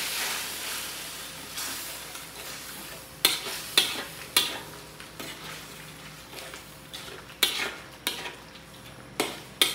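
Soy sauce being stirred into chicken and pork pares in a pan: a spoon scrapes and clinks irregularly against the metal over a faint steady sizzle.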